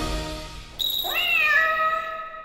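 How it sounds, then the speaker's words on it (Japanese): A cat gives one long, drawn-out meow that starts sharply and rises before trailing off, heard clearly and close against a quiet background. "猫。"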